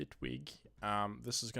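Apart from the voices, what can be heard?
No distinct noise like a dog, phone or traffic.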